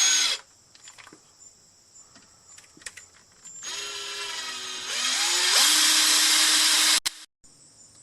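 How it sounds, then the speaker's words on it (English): A power drill bores holes while a Larson storm door is installed, first in short starts and stops, then in a steady whining run that rises in pitch before cutting out, close and loud, with no talking. "I do want to prevent the drill from wandering."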